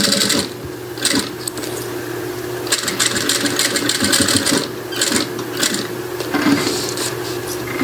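A sewing machine stitching fabric for a necessaire, a close, continuous rapid whirr with small surges and pauses as the fabric is fed along the seam.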